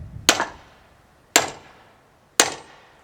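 A 14-pound lump hammer drives a metal splitting grenade into the top of a log: three sharp, loud metallic strikes about a second apart, each with a short ringing decay, close by and without talk.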